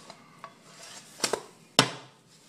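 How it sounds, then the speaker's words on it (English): Protein oatmeal pancake flipped in a pan with a spatula: a few light metallic taps and scrapes, then two sharp clacks a half-second apart, close and quiet with faint sizzling underneath. "I'm going to flip it."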